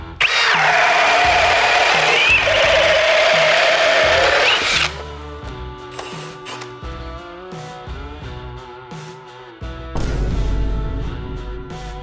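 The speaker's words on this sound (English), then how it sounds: "We got a 1 inch by like 12 inch auger bit self-feeding. I'm gonna throw it in speed 2. We're still on our hammer drill." A Milwaukee M18 hammer drill in speed 2 bores with a 1 inch by 12 inch self-feeding auger bit, a loud high whine lasting about five seconds, then quieter motor tones and a second brief burst of drilling.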